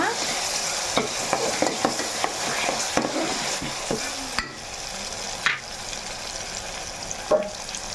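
Green chillies and tomato fry in a pan for an egg and chicken curry, with a close, steady sizzle broken by repeated spatula clinks and scrapes as the mixture is stirred.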